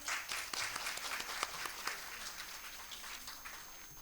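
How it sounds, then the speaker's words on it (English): Audience applause welcoming honored guests at a Kathak dance performance, a steady crowd of clapping hands with scattered sharper claps, sustained for several seconds without speech. "Let's give a thunderous applause to extend a warm welcome to our honored guests."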